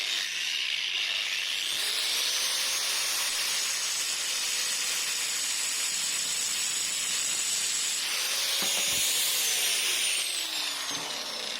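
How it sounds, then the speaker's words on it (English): An angle grinder cuts through the handbrake cables of a Triumph TR7 during a rear brake restoration. The cut is one loud, continuous, hissing metal grind, close up, with a shifting whine and no voices. "The handbrake cables didn't want to give up, but they overestimated their importance, so the grinder settled that"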